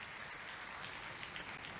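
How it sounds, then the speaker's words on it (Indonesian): A church congregation applauding, a dense continuous wash of clapping heard from within the room, steady and fairly loud for the whole short span. "Tepuk tangan dulu yang meriah buat Tuhan Yesus."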